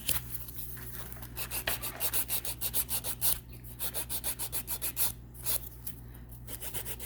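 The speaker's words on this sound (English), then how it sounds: "Taking the file in the direction that I want my nail to take shape" A nail file shapes an acrylic nail, making quick rhythmic rasping strokes close up, steady back-and-forth scrapes with a brief pause midway.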